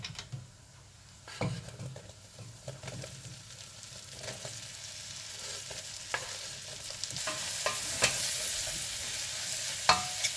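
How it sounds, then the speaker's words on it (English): Pepper and mushrooms frying in a pan, a steady sizzle under scraping stirs and occasional clinks of utensil against the pan, close up with no voices. "So you will fry pepper as well to release more power. Then we add our mushrooms."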